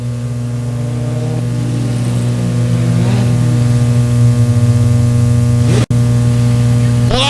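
Race cars at Buffalo Creek Speedway drone steadily under green-flag racing, a constant loud engine hum with rising revs toward the end and a brief dropout near six seconds.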